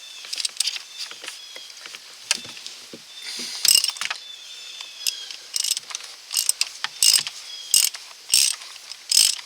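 A ratchet fitted with an impact swivel works on the oil filter of a Buick Encore with a 1.4L four-cylinder Ecotec engine, making quick bursts of close metallic clicking with short pauses between strokes.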